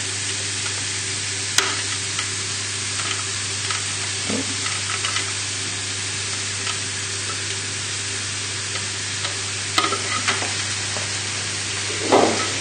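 Mushrooms sizzle steadily in a hot pan, a dense continuous frying hiss with occasional scrapes and clicks of a spatula as they are stirred.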